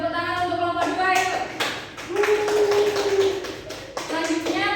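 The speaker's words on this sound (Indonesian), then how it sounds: "Beri tepuk tangan untuk kelompok 2 yuk" Classroom applause for a student group after its presentation, scattered clapping and tapping mixed with lively voices and chatter from the class.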